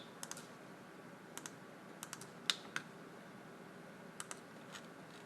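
Keys on a computer keyboard click in small sparse clusters, close but soft over faint room hiss, with one sharper tap like an enter press near the middle.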